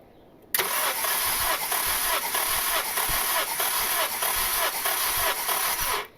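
A turbocharged 8th-generation Honda Civic engine cranking over on the starter during a compression test, a steady loud whirring with a regular pulsing rhythm that runs for several seconds, then stops abruptly.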